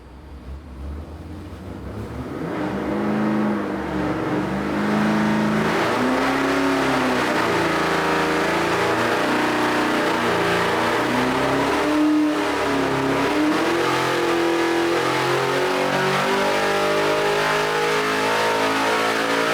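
An LS3-based 404 stroker V8 with 11.8:1 compression and a hydraulic cam revs on an engine dyno, climbing from a low rumble into a loud, sustained, rising wail that holds steady near the top, close and unbroken, with no talking.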